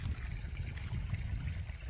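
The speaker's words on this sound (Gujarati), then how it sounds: "અહીંયા જોઈ લો મિત્ર આ પાણી આવે છે અહીંયા" Water trickles from a source in the jungle, a soft continuous running flow with a low rumbling undertone, close by and steady throughout, with no voices.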